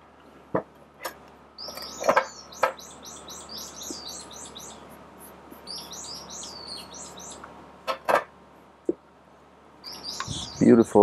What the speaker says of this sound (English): Lots of birds out making beautiful sounds.